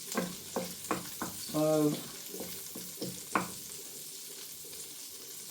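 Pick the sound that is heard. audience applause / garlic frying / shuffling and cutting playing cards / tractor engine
garlic frying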